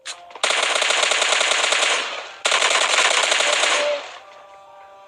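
Automatic gunfire in the PUBG Lite video game comes as two long, rapid bursts of shots, loud and close, with a short pause between them.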